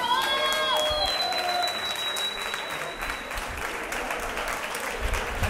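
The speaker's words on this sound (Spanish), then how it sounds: "pido un fuerte aplauso para el señor Javier Retamoso" A club crowd at a live band gig applauds in a strong, sustained burst of clapping and cheering, with a fading electronic whine at the start and voices mixed into the noise.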